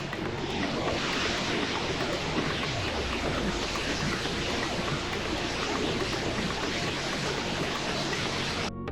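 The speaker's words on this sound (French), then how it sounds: "là on est juste à côté, juste en face de la cascade principale" Main cascade of Victoria Falls in Zambia, heard from close by across a small bridge: a dense, steady roar of falling water that fills the whole clip, loud and unbroken, with wind buffeting the microphone.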